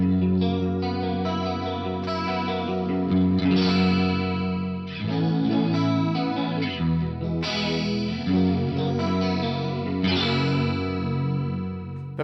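Electric guitar chords ring through an Axe-Fx chorus effect modelled on a Roland CE-1, set to full mix on one channel, giving a shimmering, gently wavering tone with no voices.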